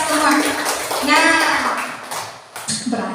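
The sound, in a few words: schoolchildren clapping hands in class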